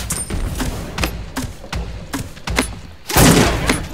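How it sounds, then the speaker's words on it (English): Golden grenade launcher firing in Realm Royale, a string of short thuds spaced about half a second apart, ending in a louder, broader explosion burst near the close. "we can still test the golden grenade launcher"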